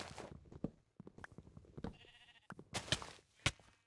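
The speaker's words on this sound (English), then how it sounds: "Sheep. We don't need new sheep." Sheep in the video game Minecraft bleat in several short, faint calls, spaced irregularly among soft game sounds.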